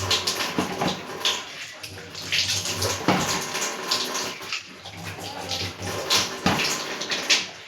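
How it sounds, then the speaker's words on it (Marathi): Carrots for gajar halwa, already lightly cooked, are rinsed under running tap water, a steady close splashing stream with faint handling sounds. "साफ पाण्याने धुवून घेऊ"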